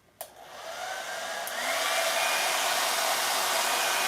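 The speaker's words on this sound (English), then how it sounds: "she heats it up with a hair dryer" A hair dryer heats birthday balloons, starting with a click and a brief blast, then building into a steady, loud whooshing airflow that grows stronger and holds unbroken, with no speech.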